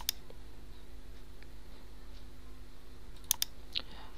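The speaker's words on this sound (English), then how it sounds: "Simply double click on it." Mouse clicks on a downloaded KM Player installer file in Windows, a few sharp, close clicks: one at the start, then a quick double click near the end, over steady faint computer hum.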